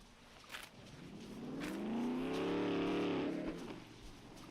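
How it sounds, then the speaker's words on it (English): A truck engine in a survival video game swells into a long rev, the pitch rising and then falling away in a loud, buzzy whine with faint clicks before it. "Truck sounds so ridiculous."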